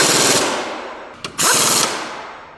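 Pneumatic impact gun hammering in loud, rapid bursts on a bolt while working on a 2002 Chevrolet Cavalier water pump replacement, with a brief pause between two long rattling runs.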